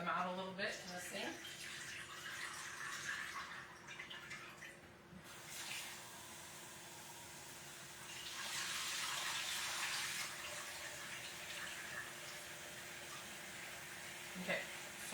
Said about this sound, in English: I take out the water that's in here and I kind of just rinse them out a little bit in the sink